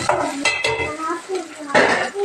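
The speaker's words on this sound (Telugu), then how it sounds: "అల్లం వెల్లుల్లి పేస్ట్ కొద్దిగా వేసుకొని ఇది కూడా పచ్చి వాసన పోయే వరకు మనం ఫ్రై చేయాలి" Ginger garlic paste fries in a pan for tomato rasam, with a spoon stirring and scraping against the metal in short bursts over a soft sizzle, close and fairly loud.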